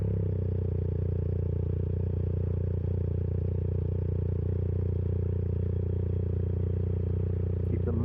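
A motorcycle engine idles nearby on a road tour of the Yorkshire Dales, a steady low rumble that holds even throughout while the bike is eased backwards.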